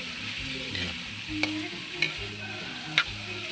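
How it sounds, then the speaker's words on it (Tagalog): A spoon stirs chayote in a pot as it sizzles, a steady frying hiss under a low hum, broken by three sharp scraping clinks of utensil against metal. "Tapos haluin natin."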